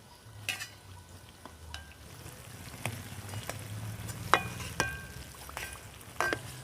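Nimki, crisp flour snacks, frying in hot oil with a steady low sizzle, broken by occasional clinks and scrapes of a utensil stirring them in the pan.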